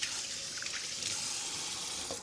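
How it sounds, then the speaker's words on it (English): Cold tap water runs steadily over shrimp in a small colander, a continuous close hissing trickle and splash with no break and no voices. "Rinsing it really well with cold water."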